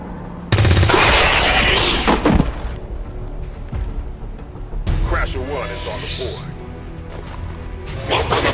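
Gunfire in XCOM 2: War of the Chosen, a loud blast and burst of shots opening suddenly, then further crashes and rattling shots mixed with game voices talking.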